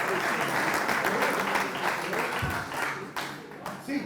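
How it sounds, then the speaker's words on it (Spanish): An audience applauds steadily at a concert or tribute event, the clapping dense and fairly close, thinning slightly toward the end, with some voices mixed in. "gracias por los aplausos"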